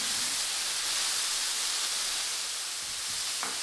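Garlic is stir-fried on very high heat in a pan with sliced vegetables, producing a steady, loud, even sizzling hiss that fills the whole stretch, with a faint clink near the end and no talking.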